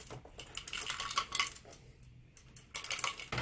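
A small brass threaded insert drops out of an Optoma HD20 DLP projector, making a few quiet metallic clinks and rattles close by.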